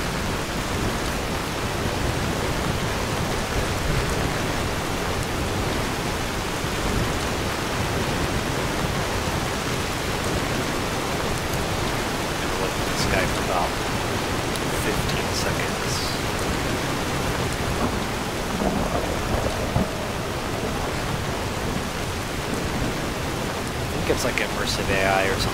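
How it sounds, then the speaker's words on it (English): Steady heavy rain pours down in Skyrim, a dense unbroken hiss of drops that holds level throughout, with faint scattered patters on top. "get hammered by the rain"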